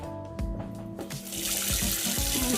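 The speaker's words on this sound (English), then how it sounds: "We put the cold water on because we don't want boiling water into the same still soup." Cold water gushes steadily from a kitchen sink tap beside the stove, with clattering of pots and dishes in the basin and a louder, fuller flow building toward the end.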